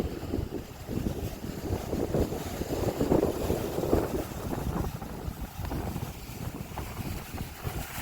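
Steady coastal wind buffets the microphone with continuous low rumbling gusts for several seconds outside the House of Refuge, Florida, no voices heard.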